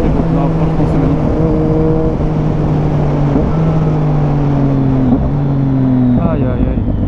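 A three-cylinder motorcycle engine holds a loud, steady drone with a few shifts in pitch as it revs, close by, while a voice talks over it.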